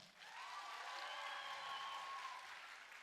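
Audience applause at a 2023 holiday concert, clapping to vote for a contest winner; a dense, steady burst of many hands that swells quickly and holds loud and even for about three seconds before easing slightly.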